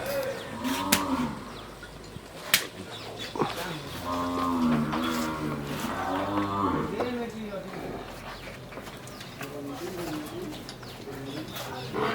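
Bunny breed buffaloes low in several drawn-out moos, some overlapping, while someone talks nearby and birds coo in the background.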